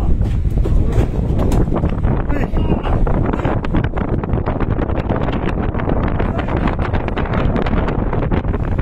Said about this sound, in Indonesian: ada puting beliung weh